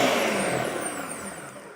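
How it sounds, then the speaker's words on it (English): A Ninja Detect Duo Power Blender pulsing, giving a loud, steady whirring motor drone that holds for a couple of seconds and eases slightly toward the end, with no voices. "this will pulse the blender itself, which you can see right now"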